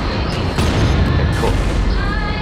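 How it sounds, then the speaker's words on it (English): Dense, continuous rumble of explosions and booming blasts in the space combat game Strike Suit Zero, loud and sustained with overlapping impacts and crackling bursts throughout. "Ah, so many explosions going on."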